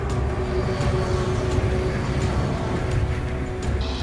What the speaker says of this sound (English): A parked car on the train tracks was struck by an oncoming train